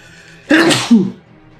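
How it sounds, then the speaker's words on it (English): One loud, close sneeze from a man: a sharp intake building into an explosive burst, then a short trailing second push, alone without talk. "That sneeze snuck up on me real hard."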